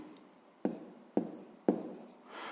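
A pen writes on paper during a fifth-grade math exercise, three distinct quick strokes spaced evenly apart, close and soft with no voice.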